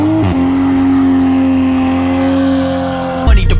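A 2020 Toyota Supra fitted with a catless downpipe exhaust holds a loud, steady, droning rev close up for several seconds. It ends in a quick throttle blip and a rough crackle.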